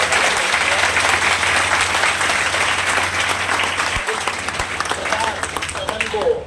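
A poetry-recital audience at a birth-anniversary event in Mewar gives loud, sustained applause to welcome the poet, dense clapping filling the whole stretch before tapering slightly near the end.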